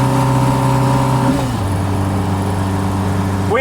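Car engine pulling up a slight hill, a steady close hum that drops slightly in pitch partway through and then holds at a constant drone.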